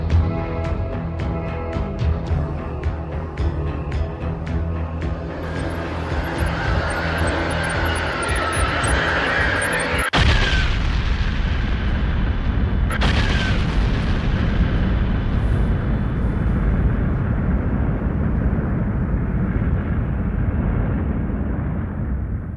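A deep, roaring rumble swells like a massive explosion, with a sharp crack midway and a second burst, then a sustained heavy, thundering roar.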